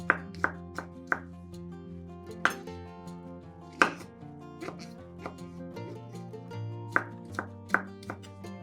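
Close knife chopping of button mushrooms on a board, quick irregular chops with brief pauses between bursts, fairly quiet and without speech.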